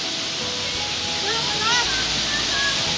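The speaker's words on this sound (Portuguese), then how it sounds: "que cachoeira maravilhosa" Waterfall at a secret blue lagoon in the Serra do Mar near São Paulo, a loud, steady broadband rush of falling water, with birdsong chirping faintly over it.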